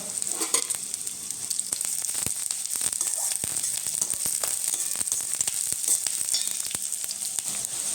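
Chopped onions with curry leaves sizzle and crackle steadily in hot oil in a pan, a close, continuous frying hiss with occasional stirring clicks and no voices.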